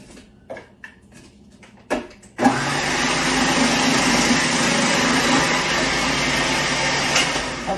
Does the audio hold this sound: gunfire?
no